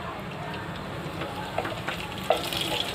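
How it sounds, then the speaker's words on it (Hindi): Cumin fries in hot oil for a veg pulao with a steady close sizzle and soft crackle, broken by a few sharp pops and faint stirring clicks. "अच्छे से इसको इसमें ज़रा फ्राई करके लेंगे अच्छे से।"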